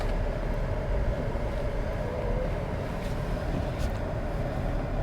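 A 2021 GMC Acadia Denali with all-wheel drive rolls along on a test drive, a steady, close road and engine rumble with broad tyre noise holding an even level throughout, no voices.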